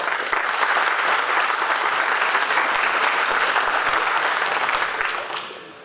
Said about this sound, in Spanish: a quienes yo les voy a rogar que los podamos recibir con un fuerte aplauso